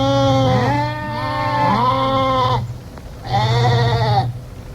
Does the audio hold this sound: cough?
no